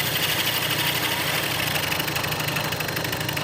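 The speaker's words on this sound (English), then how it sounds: "Here I'm milling the notch, the flat spot on the tooth rest collar." A milling machine with a 5/8 inch end mill cuts a notch in a steel tooth rest collar held in a vise, producing a steady, dense grinding whir at close range with no pauses.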